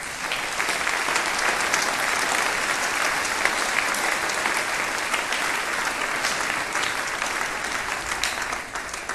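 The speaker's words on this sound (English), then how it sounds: "But another round of applause, please." Sustained audience applause at a concert band performance, a dense, steady wash of clapping filling the hall at even loudness throughout.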